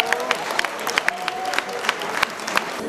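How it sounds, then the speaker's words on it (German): An audience at the Riegler family farm festival claps for the family, a dense patter of hands with sharp individual claps standing out, fairly near and steady over a murmur of crowd voices. "einen großen Applaus für die Familie Riegler ist da einmal angebracht"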